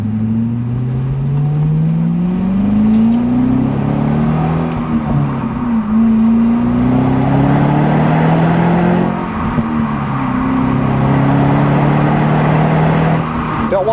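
A supercharged 6.2-litre 2011 Cadillac CTS-V with a 6-speed accelerating hard on a test drive, the engine's loud, near drone climbing in pitch through repeated gear pulls, with cabin noise throughout.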